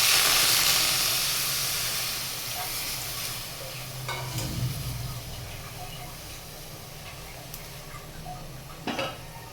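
Water hits a pan of cabbage and mixed vegetables frying for a vegetarian bhaji, giving a loud burst of sizzling and hiss. It settles into quieter steady frying with a few spoon scrapes and knocks against the pan.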